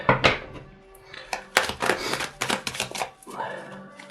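Tarot cards being shuffled by hand, giving a run of crisp riffling and slapping bursts, close and fairly loud, with a brief stretch of the shuffler's voice in between.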